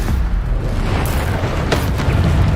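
Bombarda blasting-spell explosions in the Hogwarts Legacy video game roar loud and close, a continuous booming rumble with sharper blasts bursting through.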